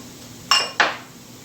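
A spoon or utensil knocks twice against a bowl while chickpea flour is stirred in, two short, bright clinks about a third of a second apart, close by in an otherwise quiet kitchen.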